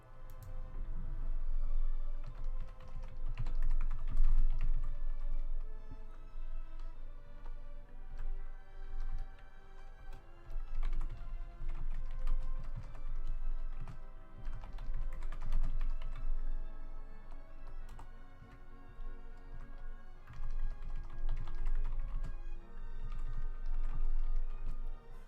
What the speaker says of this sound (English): Hearing the audio back, and I love that you can hear my keyboard.